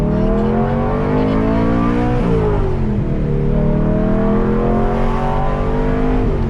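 A BMW E92 M3 V8 at about 20% throttle revs hard and loud through the rpm band, its rising harmonic engine note climbing, dipping briefly and climbing again with no talk over it.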